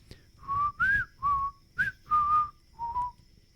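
A person tries to whistle, producing six short, breathy, wavering tones of uneven length and pitch, close to the mic and alone.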